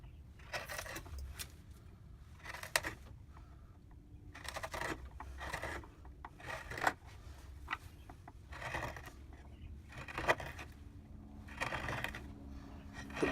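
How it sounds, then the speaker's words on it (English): A sharp gouge cuts into black walnut while a spoon is hand carved: repeated short scraping strokes, faint and close, each followed by a brief pause. "where the blade of the gouge cuts smoothly across the grain or with the grain"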